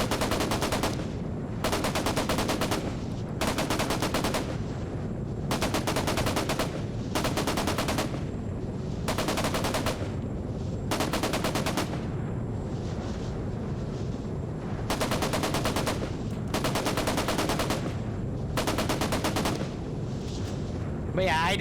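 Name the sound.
gunfire from a video game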